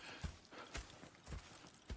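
Horse hooves clip-clop in the Red Dead Redemption 2 video game, four soft, evenly spaced thuds at a walking pace, faint and low with no speech over them.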